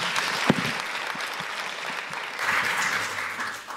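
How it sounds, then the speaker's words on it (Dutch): Lecture audience gives a warm round of applause to welcome a speaker on stage, a steady mass of clapping from many hands that swells again near the end before tapering off. "Dames en heren, graag een warm applaus voor Joep Leersen."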